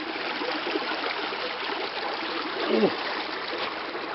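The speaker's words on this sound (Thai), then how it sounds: "มีน้ำตกที่เล่นได้" Water rushes over rocks at rapids in the Mekong River near Ban Muang, Sangkhom district, a steady close hiss of flow with a brief voice and a small splash partway through.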